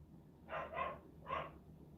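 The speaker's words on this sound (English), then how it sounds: "Yep, that's my dog." Pet dog named Evie barking indoors, three quick close barks, two back to back and a third after a short gap, over a quiet room hum.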